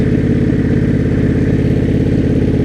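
A motorcycle engine runs steadily and loudly while riding on a morning commute, a close, even pulsing drone with no letup and no talking.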